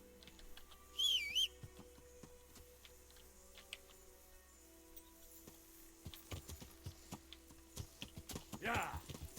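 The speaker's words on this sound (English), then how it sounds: "Horse." A horse in the medieval video game Kingdom Come: Deliverance clops along in uneven bursts of hoof taps, moderately close, with a short whistle early on and a brief spoken word.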